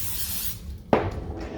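Cooking spray hisses onto sweet potato pucks: a steady aerosol spray fades out, then a second sharp burst starts abruptly and continues, close and fairly loud.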